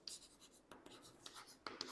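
Chalk or marker scratching across a board during a physics lecture on convex lenses, soft strokes in short bursts with quiet room tone and no talk.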